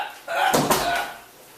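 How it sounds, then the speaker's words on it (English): An indoor door at home is pushed shut, giving a single short muffled thud within a brief burst of household noise. "let me shut this door a little bit"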